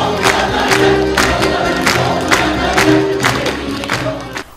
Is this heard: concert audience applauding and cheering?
yes